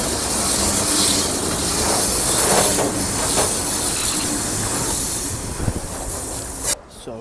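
A train moves slowly along a city street in Bratislava, a loud steady rumble with hissing and mechanical clatter heard up close for several seconds, then cutting off abruptly.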